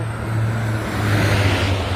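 Fast cars on a four-lane road in Butuan make a steady, loud whooshing roar that swells as traffic rushes close by, with no voices.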